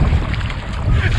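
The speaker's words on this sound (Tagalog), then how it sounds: "Masyadong malakas yung hangin" Strong wind buffets the microphone while kayaking on a spring day in Canada, a steady, loud roaring rush across the short moment with no speech.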